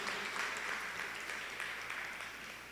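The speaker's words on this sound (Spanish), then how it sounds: "Dale un aplauso al Señor, por favor, por nuestros pastores Benjamín y Lulú, que fueron valientes." Church congregation applauding its pastors, a broad wash of many hands clapping at once, fairly distant and soft, holding steady throughout.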